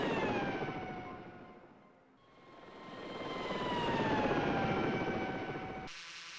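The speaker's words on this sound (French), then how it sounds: "On coupe les turbines. On arrête le rotor." A helicopter in the video game Search and Rescue 4 with its turbines and rotor running, giving a steady loud whining drone that dips and swells before cutting off abruptly into a quieter hum.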